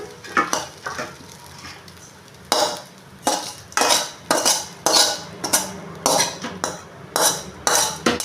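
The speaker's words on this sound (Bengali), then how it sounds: "অন্য পাত্রে ঢেলে নেব।" A spoon scrapes a cooked poha and vegetable mixture out of a metal pan into another vessel, giving a run of loud rhythmic scraping strokes and clanks, close by and without talk.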